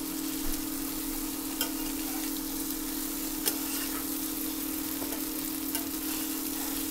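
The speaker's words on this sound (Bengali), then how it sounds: "যোগ করে এখানে আমি একটু হালকা হাতে নাড়াচাড়া করব যাতে আলুগুলো সেভাবে ভেঙে না যায়।" Boiled potatoes fry on a hot tawa for tawa pulao while being stirred gently, giving a steady close sizzle with a few soft scrapes and clicks and no talking.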